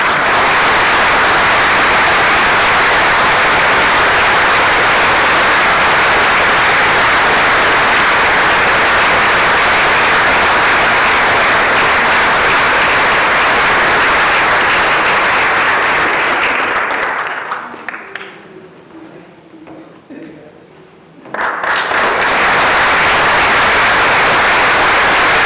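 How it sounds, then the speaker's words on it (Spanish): Sustained audience applause at a tribute event for trade unionism, loud and dense for about seventeen seconds before fading to near silence, then a fresh burst of clapping rises again near the end. "Un aplauso para Floreal Cordero."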